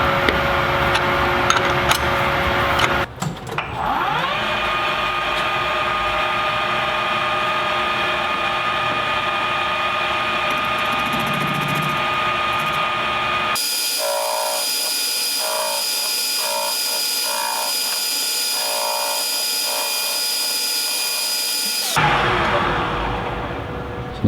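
A power tool with a cutting bit set at 30 degrees runs continuously and loud, grinding a chamfer into metal for a welded stump and axe. Its tone shifts partway through and then cuts off near the end, with no talking.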